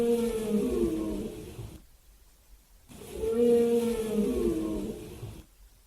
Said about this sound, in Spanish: ballena